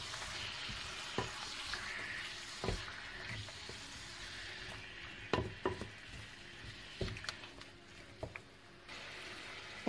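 Meat with paprika and garlic sizzles slowly in a pan for a Moroccan tagine with peas and potatoes, a steady close frying hiss broken by scattered sharp spatters and occasional utensil knocks.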